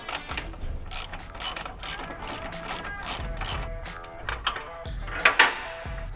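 A ratchet wrench clicks as it loosens a control arm bolt on a Renault Sandero. It makes fast, close, metallic clicking in short bursts with brief pauses, ending in a few sharper clacks.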